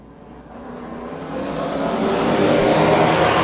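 Super Street drag race cars at Maxwells Market race side by side, their engines building from a moderate drone to a loud, swelling roar as they accelerate, with no voices over them.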